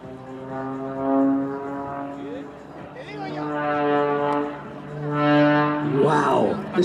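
A Pitts Special aerobatic biplane passes overhead at an air display, its propeller giving a loud, buzzing drone that swells and fades in waves, with voices talking underneath.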